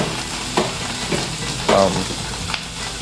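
A chuck roast sears in a hot pan for a Vietnamese pho, giving a steady close sizzle broken by a few louder bursts of spatter and stirring.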